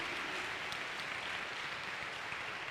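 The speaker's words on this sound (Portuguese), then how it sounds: "Você pode aplaudir a Deus por isso, amado?" Congregation applauding in a church service, a steady wash of many hands clapping at once, continuous and fairly distant throughout with no voices standing out.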